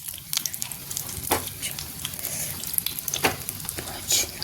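Baati fries in ghee over low heat with a soft, close crackling sizzle, broken by several sharper pops and scrapes as the pieces are turned.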